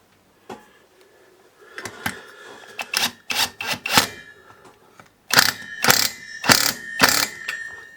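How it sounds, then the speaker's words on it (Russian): Ratcheting nut driver tightening the clutch nut on a DWT BFS 43 petrol brush trimmer: bursts of rapid metallic ratchet clicks in several close, loud runs, separated by short pauses. "главное не перестараться гайковертом"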